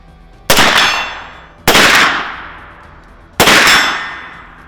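Three loud gunshots spaced well apart, each followed by a ringing metallic clang of rounds striking steel targets that rings out and fades, shot from a kneeling position during gas mask training.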